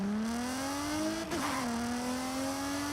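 A stock BMW E46 M3 in the Forza Motorsport game, fitted with the 350Z's engine sound, drones steadily under acceleration with a brief dip around a gear change before the pitch climbs again.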